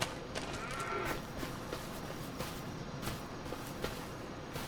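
Angus cows in Farming Simulator 25 give a few faint, distant moos over a steady farmyard ambience, with soft hoof and footstep sounds and no talk.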